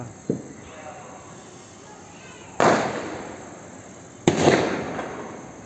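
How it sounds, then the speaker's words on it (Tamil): Firecrackers burst nearby: a small pop, then two loud sharp bangs, each ringing out into a fading rumble. "நாலா பக்கமும் வெடி வெடிச்சிட்டு இருக்கிறாங்க."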